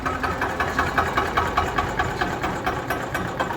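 A model 242 tractor engine idles steadily at a tractor market in Shamli, its low chugging rumble pulsing in an even rhythm with no voices over it.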